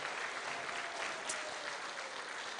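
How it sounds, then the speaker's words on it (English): Congregation at a church evening service clapping for baptismal decisions, a dense, even wash of applause from many hands, moderately distant and sustained without a break. "So I want you to clap your hands and rejoice with our baptismal decisions tonight"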